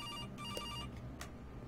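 An electronic phone ringtone chirps in an animatronic horror video game, a faint, repeating trill in short bursts over a low background hum.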